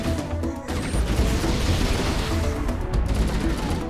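A massive explosion in the video game Halo: The Master Chief Collection, during an escape from a doomed ship, comes as a loud, dense roar of crashing blasts and rapid gunfire-like bursts that stays continuous throughout.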